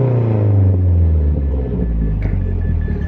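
A Mazdaspeed car engine held against a soft rev limiter, giving a loud, steady droning rumble that wavers slightly as the throttle is lightly held.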